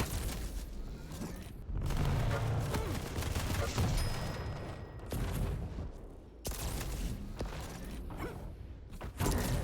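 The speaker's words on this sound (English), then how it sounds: "Chain will use that machine gun to slay him down" Rapid machine gun bursts in a KEENCUP 2v2 grand final video game match, sustained and loud across most of the stretch with brief pauses, a dense rattle of gunfire and explosive booms.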